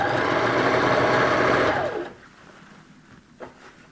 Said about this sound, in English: sewing on the stitch, the overlock stitch line, pushing it over